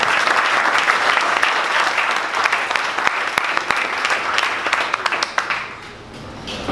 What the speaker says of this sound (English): one more round of applause for Knkt'